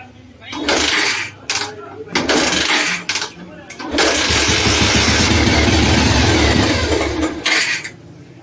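A Bajaj Pulsar 150 motorcycle with a misfiring engine cranks and catches in rough, uneven bursts, then runs with a jerky, stumbling idle that fails to rev cleanly, loud and close.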